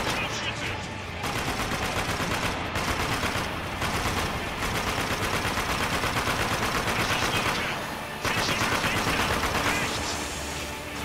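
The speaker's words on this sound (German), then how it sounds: "Ich schieße ja auf das verfickte Fenster." Sustained gunfire in the shooter game Spec Ops: The Line, rounds fired at a window: dense, continuous bursts of shots with brief pauses, loud and close, over a steady game soundscape.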